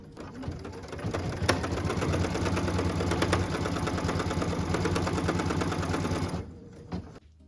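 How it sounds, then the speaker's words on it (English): A sewing machine stitching a tack down line on a log cabin quilt block, a close steady rapid mechanical whir and clatter running for about six seconds before it stops, followed by a faint click. "What we're stitching now is the tack down line for piece number 5."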